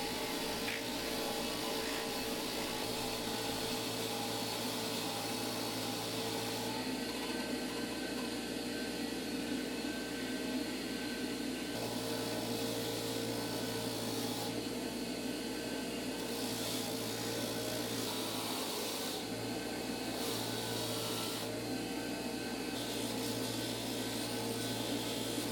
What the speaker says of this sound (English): try to salvage these rear shocks and get all of the rust off using a benchtop wire wheel